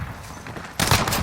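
Gunfire in a video game, a sudden loud burst of rapid shots breaking in after a quieter stretch of background noise, close and brief.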